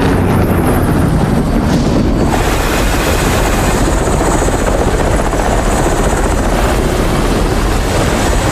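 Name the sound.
helicopter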